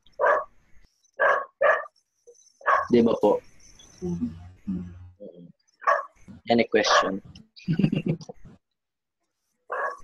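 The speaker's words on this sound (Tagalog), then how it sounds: "Sa akin, biglang tumahol yung aso namin." A pet dog barking indoors, several sharp barks in short bursts scattered among a person's talk on a call.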